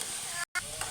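French fries sizzling in hot oil, a steady, close crackling hiss that runs evenly, briefly cut by a moment of silence midway before the frying resumes at the same level.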